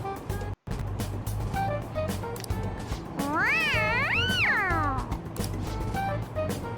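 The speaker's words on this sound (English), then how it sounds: "It's so cute, I want to hear it again. Dude, the cat's drooling." A cat in the Persona 5 video game gives one long, rising-and-falling meow lasting about two seconds, clear over a steady bed of game background noise.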